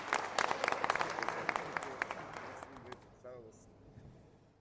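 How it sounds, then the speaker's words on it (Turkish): A crowd claps at a Turkish talk event on tourism and boutique hotels, dense rapid clapping that thins out and fades over a few seconds, with a voice starting to speak near the end. "Kocaman alkış olsun"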